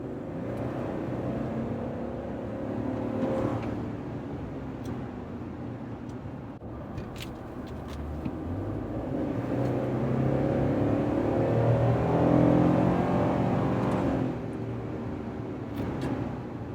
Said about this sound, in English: Hear the turbos. Listen to those turbos.